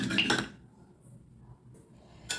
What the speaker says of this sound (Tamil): இப்போ நல்லா இதை கடைஞ்சி விட்டுடலாம்